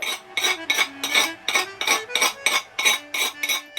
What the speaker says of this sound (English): now I'm going to whisk in the sugar and cocoa